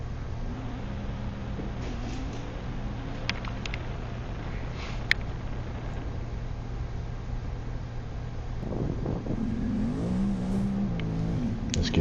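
A Honda Talon i4WD off-road vehicle drives through a canyon, its engine droning steadily at moderate distance under wind-like noise, with a rising rev and wavering engine tone near the end.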